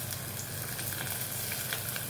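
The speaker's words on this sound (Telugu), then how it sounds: "ఇప్పుడు ఆనియన్స్ కూడా వేయాలండి, వేగుతాయి ఉంది కదండి" Onions dropped into hot tempering oil with dried red chillies for a jowar rava moong dal upma, crackling and sizzling steadily up close, with faint stirring and no talk.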